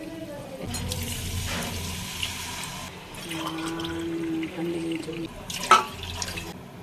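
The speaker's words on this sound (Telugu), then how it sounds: "వాటర్ కొలిచి పోసుకోవాలి" Water pours steadily into a pot of rice in a couple of measured bursts, with voices talking at moments in the background.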